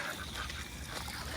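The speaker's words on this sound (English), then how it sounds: "The ducks are enjoying it quite a bit." Ducks quack and chatter continuously while feeding on farm grain at evening chores, close by and steady under outdoor background noise.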